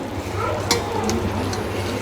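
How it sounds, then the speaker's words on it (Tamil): Yogurt is stirred with chilli, turmeric and cumin powders and salt in a basin, a short run of soft wet scraping and mixing sounds heard up close. "இதை நல்லா மிக்ஸ் பண்ணிக்கலாம்."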